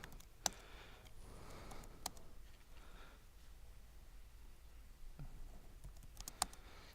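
Computer keyboard typing during a database search demo at a conference talk, faint and distant with a few sharper key clicks scattered over several seconds against low room noise, no talking.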